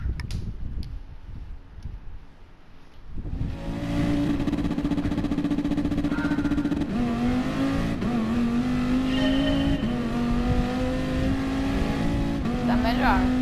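A race car in a video game revs and drives with a loud, steady engine drone that shifts pitch through gear changes, close and continuous after a quieter opening with background talk.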